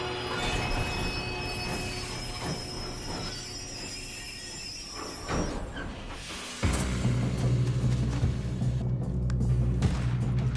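A train rolling along the tracks in the video game Red Dead Redemption II, with steady rumble, wheel squeal and clatter that grows louder and heavier partway through, with no talking.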